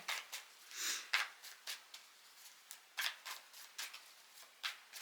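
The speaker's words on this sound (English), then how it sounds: "It's got nothing to do with me shuffling." Tarot cards are shuffled close up in a quiet room, a run of soft, irregular riffling and slapping bursts with short pauses between them.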